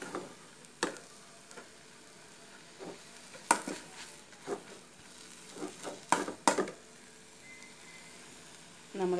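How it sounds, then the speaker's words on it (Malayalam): Drumstick leaves and egg thoran being stirred in a pan, a soft sizzle under scattered scraping taps of a spoon against the pan at irregular intervals, close and fairly quiet. "അടിയിൽ പിടിക്കാതെ ഇളക്കിക്കൊണ്ടേയിരിക്കണം."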